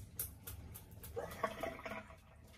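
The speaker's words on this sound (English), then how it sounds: "Fill it up with cold water again. Rinse it out one more time." Cold water splashing and running as a shaving bowl is filled and rinsed out at a sink, a brief irregular burst of sloshing and trickling close by.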